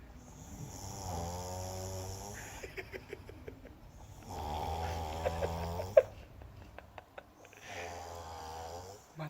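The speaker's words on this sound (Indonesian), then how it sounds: "Ngorok tidurnya." A sleeping man snores loudly and close by in three long, deep, rattling inhalations at a slow, regular pace, with quieter breathy exhales and faint clicks between them.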